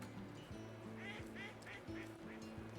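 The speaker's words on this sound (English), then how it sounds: "I thought I heard a duck." A duck in the farming game Kynseed gives a run of about five quick nasal quacks in succession, moderately loud over steady game music.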